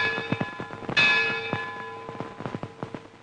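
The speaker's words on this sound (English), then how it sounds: "In a case of such importance, the historic Lutein Bell is rung." The historic Lutine Bell at Lloyd's of London rings out once, a clear sustained metallic tone that slowly decays amid the soft clatter of a room, with no talking.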